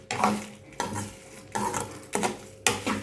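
Green and red chillies being sautéed in a pan for a spicy pickle, heard as about five distinct bursts of spatula scraping and stirring against the pan over a faint sizzle, close and without speech.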